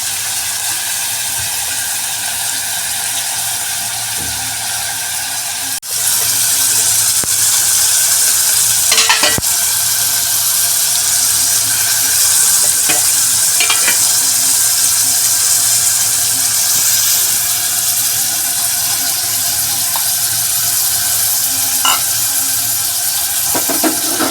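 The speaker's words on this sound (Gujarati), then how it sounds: "હવે આપણે દાળ અંદર નાખીશું" Chana dal is being stirred into bottle gourd curry frying in a pan, giving a steady sizzle with scraping and clinking stir strokes that run throughout, close and fairly loud, with no voices.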